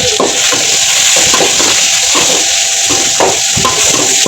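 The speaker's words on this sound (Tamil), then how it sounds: "லோ ஃப்ளேமில் வச்சு அந்த டைமாக வதக்கணும் ஆனால் வெங்காயம் தீங்கக்கூடாது பொன்னிடமாக வதங்கணும்" Onions sautéing over a low flame in a pan for egg thokku, a steady close sizzle broken by repeated soft scrapes and clinks of a spoon stirring every half second or so, with no talk.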